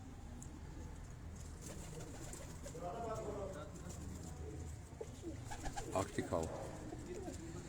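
Old pigeons kept about fifty years on a house rooftop coo softly and steadily in the background, with a voice talking over them and some light flapping.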